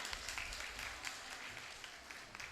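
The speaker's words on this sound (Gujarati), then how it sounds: "તાળીઓથી આપણે વધારીએ." An audience at a community student award ceremony claps, a faint, continuous patter of applause heard from a distance with no clear peaks.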